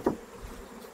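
Honeybees shaken off a hive frame make a brief, loud buzz, then a low, steady hum continues nearby.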